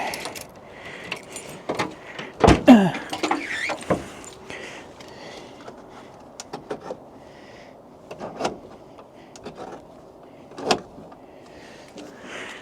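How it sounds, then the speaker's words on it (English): Morris Minor door opened with a key so the door window drops down, heard as a jangle of keys, a sharp latch clunk and a brief sliding thud, then quieter rattles and a later knock, close up with no talk. "watching the door drop as I open it"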